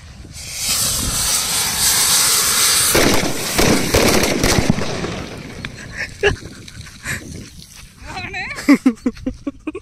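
Diwali firecrackers and sky fireworks go off in a village: a loud, dense crackling barrage gives way to scattered sharp bangs and pops, with voices of people nearby.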